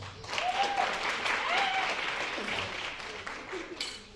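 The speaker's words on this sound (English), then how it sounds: "Give yourself a round of applause" Applause rises from the audience at an epilepsy awareness event, moderate and fairly distant clapping with a voice heard over it before fading.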